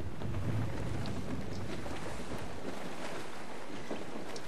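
Steady wind and rushing sea surround a sailing ship in Assassin's Creed 4 Black Flag, a continuous, moderately loud wash of wind noise and waves with no talk.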